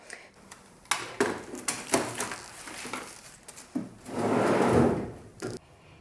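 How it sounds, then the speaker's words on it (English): A wooden drawer under a bookcase in a craft room slides open, with a series of close knocks, clicks and rattling contents followed by a longer sliding scrape. "Here's the top drawer on the right-hand side underneath the bookcase."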